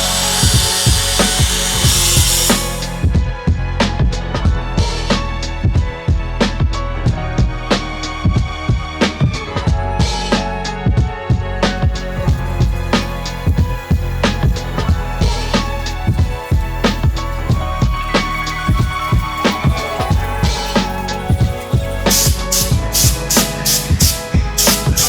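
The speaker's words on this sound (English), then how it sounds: "So we'll pull it off, do one more cut, one more test fit, and then weld it all back up." A power tool cuts a notch into a steel car subframe during a V8 swap of a Lexus IS300 wagon, a loud continuous grinding and rattling run with repeated sharp bursts close by, without talk.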